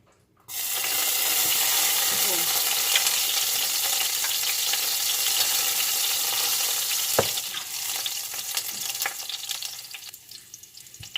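Garlic drops into a hot pan and sizzles, a loud, bright frying hiss that starts suddenly and holds steady for several seconds, with a brief clink partway through before easing slightly at the end.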